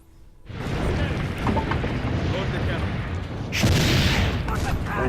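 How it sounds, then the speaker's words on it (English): Cannon fire in the video game Assassin's Creed: Brotherhood builds into a loud, continuous rumbling roar of booms that swells sharply near the end. "Ooh, maybe he's got a lot of cannons, huh?"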